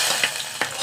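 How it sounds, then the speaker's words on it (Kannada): Hot oil tempering with browned garlic hits a pot of village-style sambar, a close, loud hiss that swells and settles during a brief moment, with two soft spoon knocks. "ಸಾಂಬಾರು ನೋಡಿ ಒಗ್ಗರಣೆ ಕೊಟ್ಟೆ"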